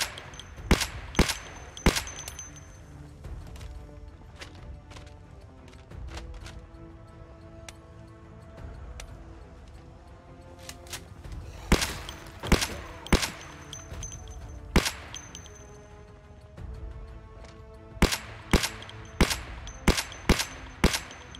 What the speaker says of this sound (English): I'm gonna be shooting a little bit today.